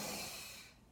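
A single long exhale during a Pilates reformer exercise, a soft airy hiss close to the microphone that fades out over about a second.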